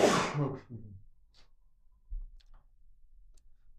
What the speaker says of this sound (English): finally sneezed